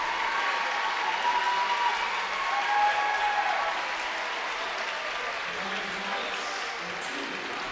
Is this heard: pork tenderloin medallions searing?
no